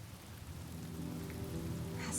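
Rain falls in a Honkai: Star Rail cutscene as a soft, steady patter with a faint low rumble beneath it. Background music tones run through it.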